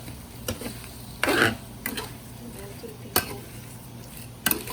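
Shrimp being stir-fried with fish sauce in a pan, with soft sizzling under repeated sharp scrapes and clicks of a utensil against the pan, close and fairly quiet.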